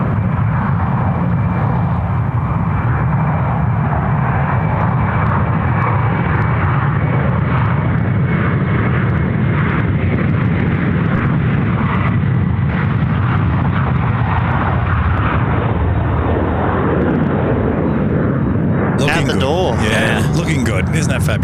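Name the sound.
airliner in retro livery on takeoff roll, engines roaring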